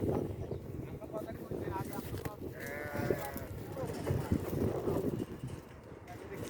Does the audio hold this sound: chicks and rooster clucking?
no